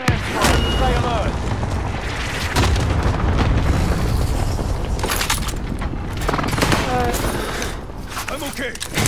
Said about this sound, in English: Enemy pushes an airstrike.